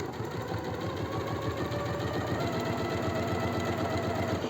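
Close, continuous whirring and rapid ticking of a sewing machine stitching a securing seam along the lower raw edge of a pajama piece before the collar is set in, steady and uninterrupted with no voices.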